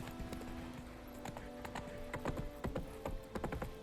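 Roach the horse's hooves clip-clop in The Witcher 3, a run of close, distinct hoofbeats in an uneven walking rhythm over a low ambient game backdrop.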